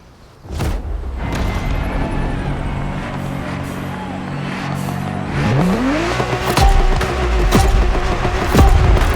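A Ferrari 365 GTB4 Daytona in The Crew Motorfest revs up loudly, its engine note climbing in pitch through gear changes, with clattering mechanical sounds and booms mixed in.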